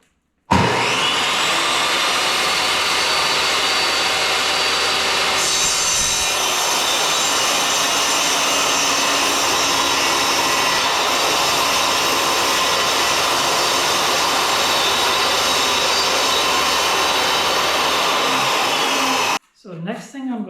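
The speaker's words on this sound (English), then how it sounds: "I'm going to cut partially through it" Table saw partially cutting through wood for a sled, a loud sustained whine that holds steady for most of the time as the blade bites the board, then stops abruptly, leaving a short quiet tail.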